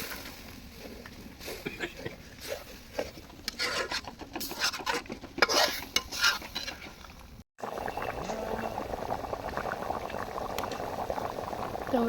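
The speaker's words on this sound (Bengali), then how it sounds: "জলের পানিটা দেওয়ার পরে ভালো ফুটে গেছে" Curry bubbling in a pot after water was added, close gurgling and popping bursts that give way to a steadier simmering rush after a short gap, with a little faint talk.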